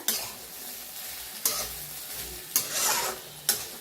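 Cluster beans roast in a hot pan with a steady dry sizzle, broken by a few scraping stirs of a spatula at irregular intervals, close and moderately loud with no talking.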